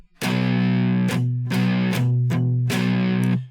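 Heavily distorted electric guitar chords strummed in a steady down-up pattern, loud and close, with brief gaps between the ringing strokes and no voices.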